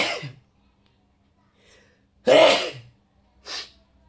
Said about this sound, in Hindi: चलिए छींक आ गई थी।